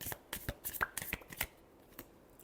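Tarot cards are shuffled in a quick run of crisp riffling flicks and soft slaps over about a second and a half, then a few faint taps, close and quiet with no voice.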